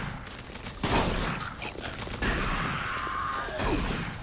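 Rapid bursts of gunfire aimed at an enemy in Doom 3: BFG Edition, several broadband cracks arriving in uneven clusters over a constant game-ambience bed, with a mechanical whine sweeping through the middle.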